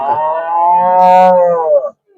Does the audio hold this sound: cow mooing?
yes